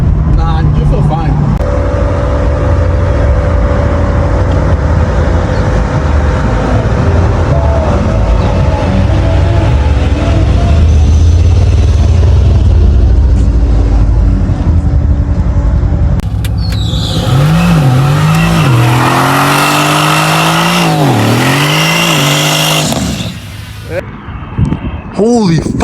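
A 2019 Mercedes-AMG C63 S coupe engine roars loudly and continuously, with a deep exhaust rumble that swells into rising and falling revs near the end, while people talk over it.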